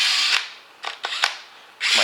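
A cordless drill running a sanding attachment on car headlights, the motor whirring in long steady bursts broken by short pauses and brief stutters, loud and close, with no one talking.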